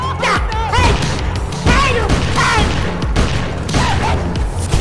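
A fire gun in the VR game Blade and Sorcery fires repeated loud blasts and crackling bursts in close succession, mixed with thumping impacts and energetic chatter from players.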